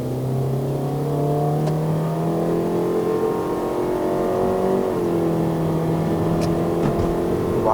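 A Toyota Estima 2.4L XR50 minivan climbs the uphill Genting road in Malaysia, its engine droning loud and steady from inside the cabin, pitch rising through the gears with a brief drop at each shift.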